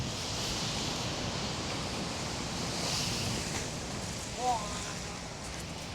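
Steady wind rushes and buffets the microphone in a broad, continuous roar at a campsite, with a faint bird chirp and a brief knock.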